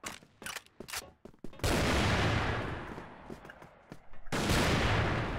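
DSR-1 sniper rifle shots in the online shooter CrossFire, sharp reports followed by long loud bursts of gunfire and noise, with short gaps between, and no talk over them.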